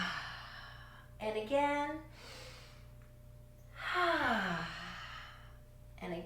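Deep, audible breaths during a kids' yoga stretch: two long, breathy inhale-and-sigh exhales, close and clear, with a voice speaking briefly at the end.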